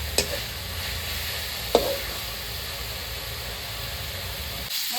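Coriander leaf paste sautés in a pan with spices and turmeric, a steady close hiss and sizzle running throughout, broken by a couple of sharp spatula clinks and a brief soft thud near the end.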